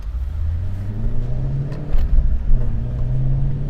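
A 2016 Ford Mustang Shelby GT350R drives with its engine running as a loud, low, steady rumble up close, and the engine swells briefly near the middle.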